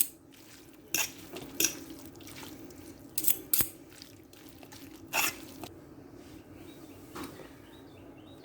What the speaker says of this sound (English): I just washed out my crock pot really quick